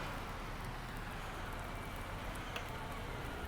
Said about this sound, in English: Please excuse the rain.